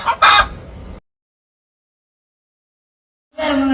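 A chicken clucks loudly in a short burst, then falls silent for over two seconds before its calls start up again, with nothing else heard.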